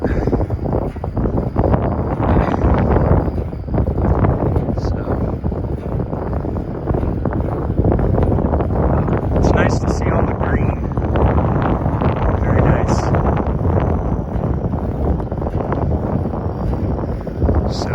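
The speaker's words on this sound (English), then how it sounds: "Just really hope the wind dies down." At a Texas drag strip, I30 Dragway in Caddo Mills, gusty wind rushes across the microphone in a loud, sustained rumble. A voice may be partly buried in the roar.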